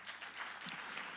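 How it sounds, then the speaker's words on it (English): Audience at a church conference breaks into brief, steady applause: a dense wash of many hands clapping, close and full, with no speech over it. "Can we give them a nice round of applause?"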